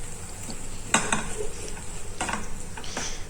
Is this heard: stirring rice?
yes